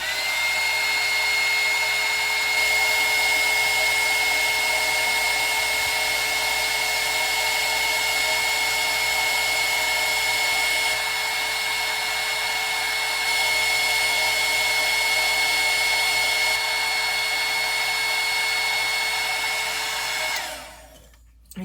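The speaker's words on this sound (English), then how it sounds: "I'm going to kind of dry that a little bit with the heat gun" A heat gun blows steadily on a freshly applied paint layer, a loud continuous whirring hiss with a high whine that holds for about twenty seconds before cutting off abruptly at the end.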